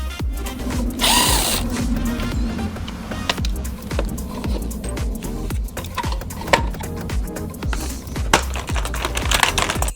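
Power drill backing screws out of the housing of a Craftsman lawnmower, with short whirring bursts separated by clicks and handling clatter, close up and without talk.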